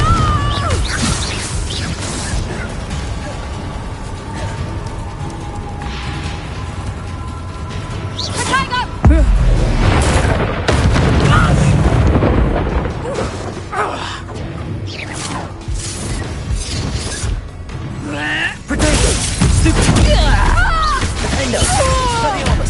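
Spell blasts in the Hogwarts Legacy video game as the Confringo fire spell is cast, loud crashing bursts mixed with whooshes and combat noise, while a voice calls out spell names throughout.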